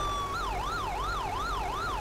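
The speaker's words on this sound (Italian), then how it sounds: "Vediamo qua, siamo con le sirene" An ambulance siren in Euro Truck Simulator 2, answering a motorway crash on the A4, holds a steady tone briefly and then swings into a fast rising-and-falling wail, loud and close, with no talking.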